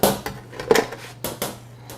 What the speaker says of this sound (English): our bread machine bread has been cooled, and it is ready to come out of the pan